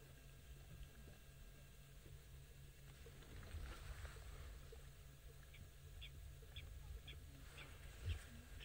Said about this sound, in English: I'm sure you can hear all the other birds.